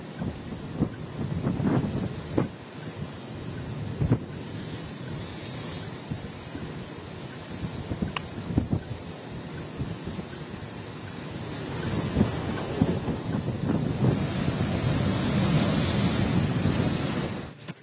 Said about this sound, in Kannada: ಕರಾವಳಿಯಲ್ಲಿ ಮೋಂತಾ ಚಂಡಮಾರುತದ ಅಬ್ಬರ ಮುಂದುವರೆದಿದೆ